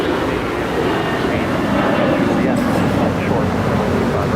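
Airliner taking off from runway 25 right at Los Angeles International Airport, a loud, steady broadband engine roar sustained throughout, with faint talk beneath.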